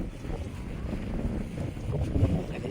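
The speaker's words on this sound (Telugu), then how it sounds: "గాలి" Wind blowing through a home garden with okra and button rose plants, a steady broadband rush with gusty swells that grows slightly stronger toward the end, buffeting close to the microphone.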